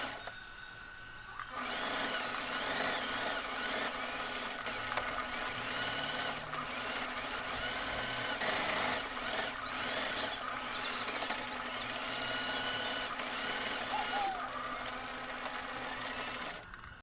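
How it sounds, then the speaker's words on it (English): A sewing machine straight stitches around the waist edge of a dress, running steadily for a long stretch, its fast mechanical whir continuous and close, starting after a brief quiet moment. "head over to the sewing machine, straight stitch all the way around the waist edge"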